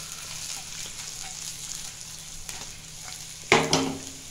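Garlic, ginger and green chilies fry in hot oil for a chili gobi dish, giving a soft, steady sizzle. Near the end a sharper clatter and burst of sizzling is heard as more goes into the pan.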